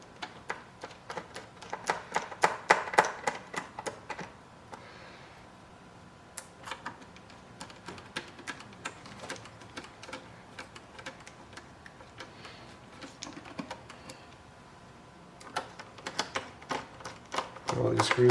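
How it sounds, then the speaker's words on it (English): Screws being driven back into an Xbox One S console, bursts of small ticking and clicking from a screwdriver with quieter pauses between, close and soft. "Put all these screws back in, make sure they're not super tight, but tight enough."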